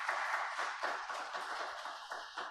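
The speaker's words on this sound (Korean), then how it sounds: "앞에 영광의 박수 올려드리겠습니다" A Sunday worship congregation claps in a quick, steady rhythm, many hands striking together in regular beats, heard at a distance with no voices on top.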